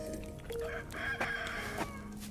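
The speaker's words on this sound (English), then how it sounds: "rooster is singing at 7 o'clock" A rooster crows in the medieval open-world game Kingdom Come Deliverance 2, one drawn-out cock-a-doodle-doo rising and falling over steady ambient background, fairly close and alone without talk.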